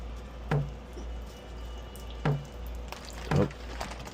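Liquid drips during preparation of a stuffed pork tenderloin: three separate drops land at uneven intervals, each a short, soft splat over a steady low background hum, with no talking.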